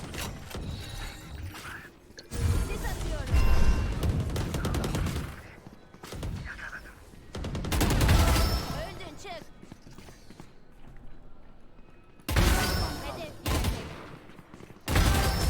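Bursts of rapid pistol gunfire from a Sheriff sidearm in a tactical shooter video game, loud crackling volleys separated by brief gaps, with clinking mechanical sounds between shots.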